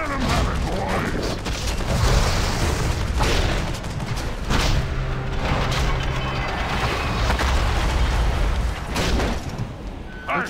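Rapid gunfire in World of Warcraft's Grimrail Depot, a dense continuous barrage of booming shots and mechanical clatter lasting throughout, loud and busy with battle noise layered underneath.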